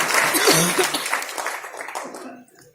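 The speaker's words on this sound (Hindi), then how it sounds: "तालियां होनी चाहिए सर के लिए" Audience applause for a speaker at a Hindi motivational talk, a dense patter of clapping with a little laughter and coughing mixed in, loud at first, then thinning and fading out near the end.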